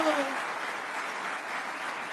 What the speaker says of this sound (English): rousing applause, almost like a standing ovation.